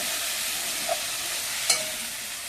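Spice paste frying in a pan for a meat dish, giving a steady dense sizzle with two brief utensil taps while it is stirred, close and continuous.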